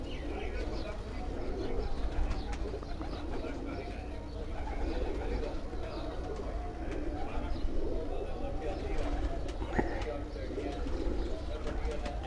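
Pigeons coo steadily on a Punjab rooftop loft, soft overlapping low calls forming a continuous murmur, with faint chirps and background voices mixed in.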